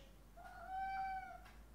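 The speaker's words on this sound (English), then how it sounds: "Hi cat" A cat gives a single clear, drawn-out meow in a home kitchen, close and fairly quiet over a faint hum, with no talking.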